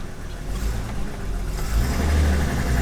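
A BMW car engine revs steadily while driving in third gear, a low continuous rumble that swells louder near the end.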